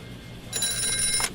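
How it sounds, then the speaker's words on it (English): A telephone bell rings in a short burst that starts partway in, bright and fairly close over low room noise. "Phone call for Jack Tracer"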